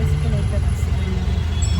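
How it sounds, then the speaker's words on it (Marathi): Dense road traffic in a crowded street at Tulshibaug, heard from inside the jam: a steady low engine rumble with a broad wash of vehicle noise, loud and unbroken throughout. "सो आम्ही ट्रॅफिक मध्ये अडकलेलो आहोत खूप गर्दी आहे"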